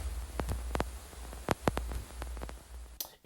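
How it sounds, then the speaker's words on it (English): Looped vinyl crackle static: a steady hiss with a low rumble and scattered sharp clicks and pops at irregular intervals, fairly quiet and close, with no voices. "some of that vinyl crackle"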